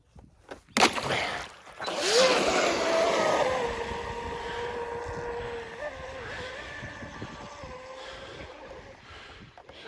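Miss Exide model boat's motor whines steadily on the water after a sharp start, its pitch climbing and then holding as the boat runs out over the surface, with wind buffeting the microphone.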